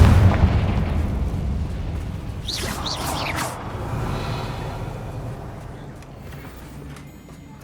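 Confringo spell explosion in the video game Hogwarts Legacy: a heavy booming burst with crackling debris that fades into a rumbling tail, set over continuous game ambience.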